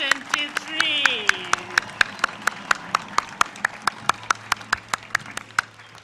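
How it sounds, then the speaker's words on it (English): Sharp, regular claps ring out in a steady beat at a university graduation ceremony, with a voice talking over the first stretch before the clapping carries on alone. "So please join me in giving a round of applause to the graduating class of"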